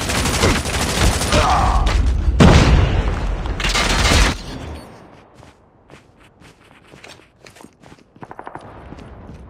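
A grenade explodes in a first-person shooter game, with loud booming blasts and rattling gunfire for about four seconds, then softer scattered shots and footsteps as the noise dies away.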